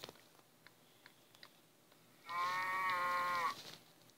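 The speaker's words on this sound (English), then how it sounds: "There has to be a cow" A cow in a video game map lets out one clear, sustained moo lasting about a second, fairly loud against a quiet background with a few faint clicks before it.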